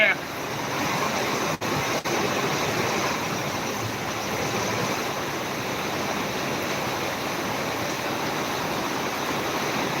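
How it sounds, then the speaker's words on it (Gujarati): Heavy monsoon rain pours down in Jam Khambhalia, a dense, steady roar of broadband hiss that holds loud and unbroken from start to finish, with no voices. "ધોધમાર વરસાદ પડી રહ્યો છે મિત્રો"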